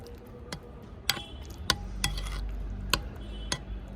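Spoon stirring curd mixed with beetroot in a bowl, a handful of sharp clinks and scrapes spread irregularly over a few seconds, close and fairly quiet.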